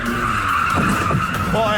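A car skids into a deliberate slide on a course lined with barriers, a loud sustained tire squeal rising and wavering over engine noise, with a voice briefly audible partway through.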